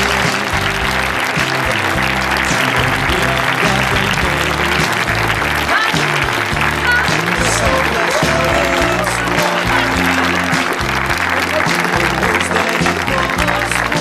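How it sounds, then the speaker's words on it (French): A cinema audience claps loudly and continuously at a preview screening of Avis de Mistral at the Méga CGR in Tarbes, with dense, sustained applause over a pulsing low backdrop for the whole stretch. "Vous pouvez applaudir plus fort."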